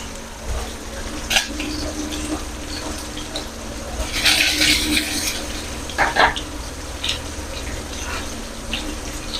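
Chicken pastil fries in hot oil with a steady crackling sizzle, broken by louder bursts of spattering and utensil scraping.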